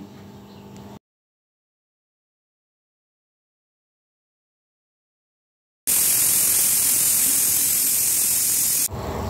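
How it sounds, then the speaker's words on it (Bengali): Pressure cooker on the stove while mutton cooks lets out a loud, steady rush of hissing steam that starts abruptly after a silent pause, holds for about three seconds and cuts off. "প্রেসার কুকারের মধ্যে দিয়ে আরেকটা সিটি দিয়ে নিচ্ছি।"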